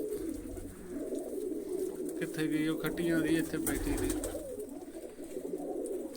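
Domestic pigeons in a hobbyist's loft coo steadily at close range, partly under a voice talking throughout.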